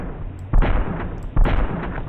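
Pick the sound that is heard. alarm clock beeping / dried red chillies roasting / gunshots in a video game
gunshots in a video game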